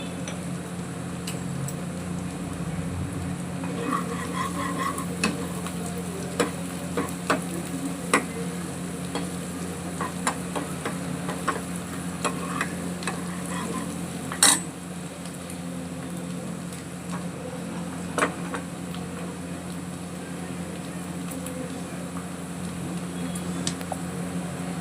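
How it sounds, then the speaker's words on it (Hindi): Onions and green chillies frying lightly in a pan for tadka, a low continuous sizzle under scattered ticks and taps of a spoon, with no voices. "और प्याज को हमें ज़्यादा नहीं भूनना है, बस थोड़ा सा कच्चापन निकलना है, नहीं भूनना।"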